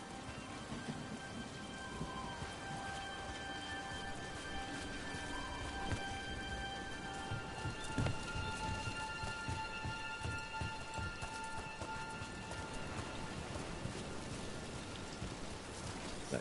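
Rain falls steadily in Dragon Age: The Veilguard, a soft continuous patter with low rumbles of thunder rolling in the background and a sharper crack near the middle, faint and without voices.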